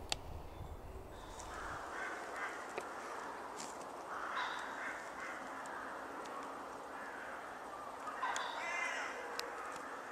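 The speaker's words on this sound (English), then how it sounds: "As the light fades, the crows start to bundle in" Crows cawing as they arrive at an evening roost, a flock calling repeatedly at moderate distance, with overlapping harsh caws spread through the clip.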